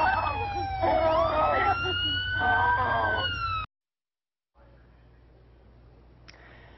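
A police siren wails loudly and steadily during a 911 call as officers arrive, its rising and falling tones sounding over a rough phone line for several seconds before the line cuts to near silence and faint background noise.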